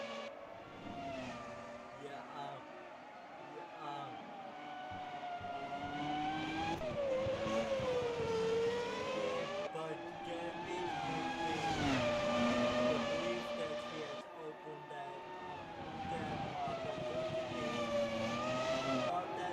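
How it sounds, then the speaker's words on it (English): Formula 1 race cars in a video game, including an Arrows and a Williams, drone past continuously with engine notes rising and falling and shifting through gears, while commentators talk over the race. "as we see one of the Arrows cars just going off right in front of the leader"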